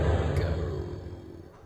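A rocket engine at full throttle in Kerbal Space Program gives a steady, loud, close roar of broadband rumble that eases off slightly over a couple of seconds.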